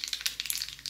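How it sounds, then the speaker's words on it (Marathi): Mustard seeds and cumin spattering in hot oil for a chutney tempering, heard as quick crackling pops and sizzle in irregular bursts, close and fairly quiet. "चटणीला फोडणी द्यायची आहे। थोडीशी मोहरी घालायची आहे, जिरे"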